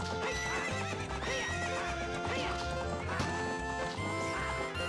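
A horse in the video game Ocarina of Time whinnies repeatedly over rhythmic clip-clopping hooves and a steady pulsing beat of game music.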